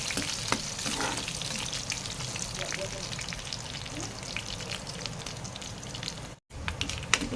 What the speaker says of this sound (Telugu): ఎండుమిర్చి వేసుకుందాం.